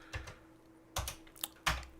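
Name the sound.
typing on an old Commodore 64 breadbox keyboard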